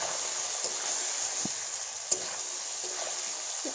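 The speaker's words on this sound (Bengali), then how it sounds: "আলুগুলো ভাজা ভাজা হচ্ছে" Potatoes frying in a pan while fish curry is being cooked, making a steady, fairly quiet sizzle with a few soft stirring knocks and one sharp clink, with no voices.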